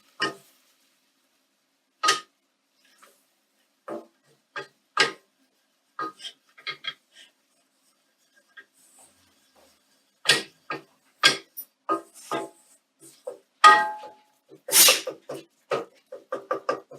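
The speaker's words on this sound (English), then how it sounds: "So next I'm going to add my flour. And mix that in." A spoon scrapes and taps against a pan while flour is stirred into a chicken and ham pie filling, giving sparse, sharp clinks and scrapes separated by silence.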